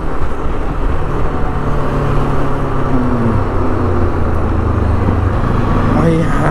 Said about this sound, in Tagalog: Grabe yung traffic dito.